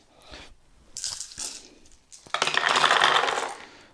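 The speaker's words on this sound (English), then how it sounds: "we need to roll those 2 dice again" Two dice rattle and tumble across a table during a Dawn of Empire board game turn, with a few light clicks first, then a dense clattering burst of rolling that settles after about a second.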